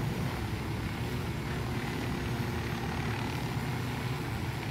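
Helicopter in the video game Ghost Recon Wildlands, a steady low rotor-and-engine drone holding at an even level throughout, no talk over it.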